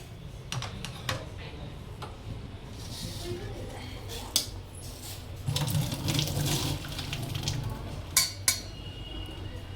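Hot water from boiled vermicelli pours and splashes steadily into a sink as it drains, with occasional metallic clinks of a utensil, running continuously through the clip.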